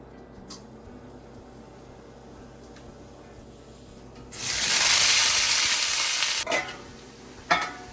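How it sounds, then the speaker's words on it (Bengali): Sliced potatoes hit a hot pan, and a sudden loud, steady sizzle of frying follows for a couple of seconds before it dips. A few clatters of a utensil come after, with no talking. "এবার এটা ভাজতে বসিয়ে দেব"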